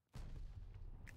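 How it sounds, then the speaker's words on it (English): A glide bomb explodes in a Call of Duty Vanguard multiplayer match: one abrupt, heavy boom with a rumbling tail lasting about a second. "Glide bomb."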